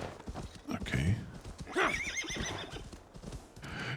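Horse in Assassin's Creed Valhalla gallops with steady clip-clop hoofbeats and gives a loud, close whinny partway through, with faint game sounds around it.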